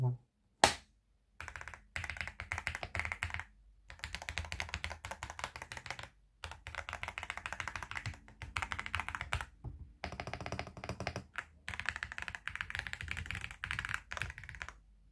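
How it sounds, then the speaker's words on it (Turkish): Mechanical gaming keyboard switches pressed one at a time in rapid bursts of close, crisp clicking and clacking, with short pauses between runs and nobody talking. "tek tek switchlerle birlikte bir mekanik deneyim dinleyecek olursak da"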